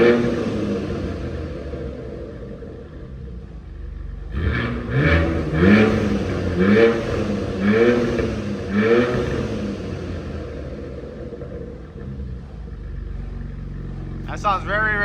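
A BMW X3M with a cheap aftermarket exhaust and its valves open revs several times in quick succession, a deep rhythmic burble rising and falling, with people talking before and after the revs.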